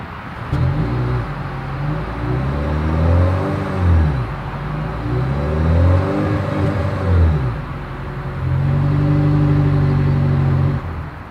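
A 2023 Toyota Crown hybrid with dual exhaust idles and revs in repeated rising and falling swells, a steady mid-pitched engine drone heard close with no talking.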